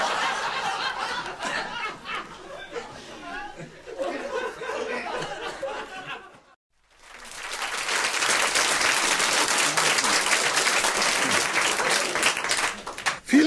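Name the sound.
audience applause greeting the speaker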